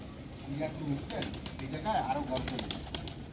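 Pigeons cooing softly at close range on a rooftop pigeon farm, low burbling calls mixed with people talking nearby.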